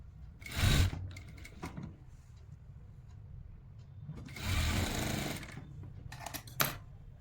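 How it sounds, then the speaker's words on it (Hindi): A sewing machine stitching a pant in two loud mechanical runs, each a dense whirring burst about a second and a little longer, separated by quieter handling and fabric rustle, with short clicks at the end. "इसे सीधा करते हुए जैसे पहले स्टिच किया था उसी तरह से स्टिच करेंगे"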